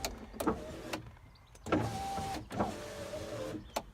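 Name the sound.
car electric windows moving up or down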